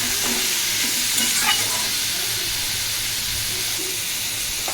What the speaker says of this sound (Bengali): ঝিঙে দেওয়ার পর আমি গ্যাসের ফ্লেমটা হাই করে বেশ কিছুক্ষণ ঝিঙেটা একটু ভাজা ভাজা মতো করে নেব